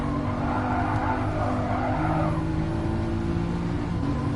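Race car accelerating hard around a track on a track day, a loud, continuous engine drone with rising revs and a hint of tire noise, heard alone without talk.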